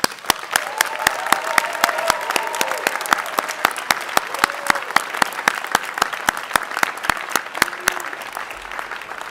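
An audience at a Minnesota State University Moorhead graduate commencement applauds the new graduates: steady, dense clapping from a large crowd fills the hall, with a few sharper close claps standing out and a faint voice or tone underneath.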